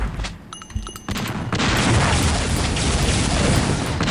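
A weapon's secondary double-blast fires in Unreal Tournament 99, a loud booming discharge that swells into a sustained roaring rumble after a few short sharp clicks.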